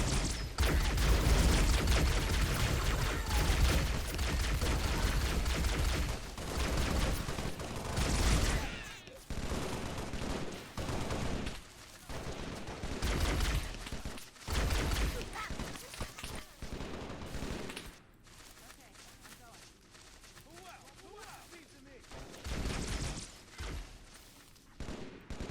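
Sustained gunfire in the Halo Call to Arms mod, a UNSC last stand on Reach against grunts: dense overlapping bursts and rapid shots, loud at first, then thinning into scattered, more distant volleys.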